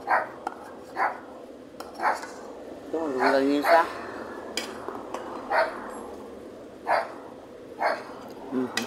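One dog barks in short, repeated yips at a steady pace, a fairly close and moderate sound, with people talking over and between the barks.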